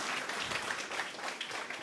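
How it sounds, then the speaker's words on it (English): An audience at a CircuitMess launch event applauds its lead developer, a dense, steady wash of clapping from many people at moderate distance for the whole stretch. "A big applause for Philip"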